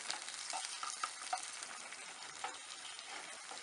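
A single egg sizzles in a pan on a Heliac solar cooker, giving a faint, even, continuous frying hiss with no break and no voices.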